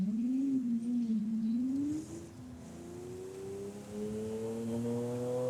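Lamborghini SVJ with stock engine in Forza Horizon 5 revving and accelerating on a highway, its engine note rising, dipping at a gear change, then climbing again, heard alone.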